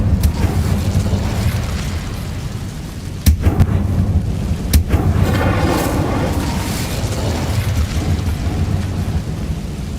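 The Incendio fire spell in Hogwarts Legacy, a loud roaring whoosh with rumbling bursts and a couple of sharp cracks, rising and falling over several seconds.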